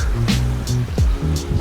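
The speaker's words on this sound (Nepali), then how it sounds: "त्यहाँ ड्रेन भइरहेछ" Aquarium water draining out during a 50% water change while the substrate is swapped, a close, continuous gurgling and sloshing flow with bubbly pulses.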